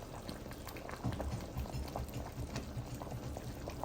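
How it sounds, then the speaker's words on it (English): A pot of Nigerian oha soup with fish at a steady boil, bubbling and popping softly and continuously throughout, close by and fairly quiet, with no voices. "Let it boil."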